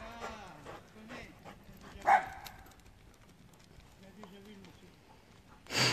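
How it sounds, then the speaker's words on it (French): A dog gives short yips and whimpers up close, with a sharp bark-like burst midway, while someone speaks over it. "Calmez votre chien, monsieur, s'il vous plaît."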